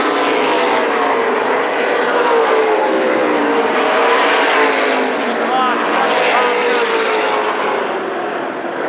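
Late model race cars circle Berlin Raceway's oval in a 40-lap feature, a continuous loud roar of engines with pitch sweeps as cars pass close by. An announcer speaks over the racket.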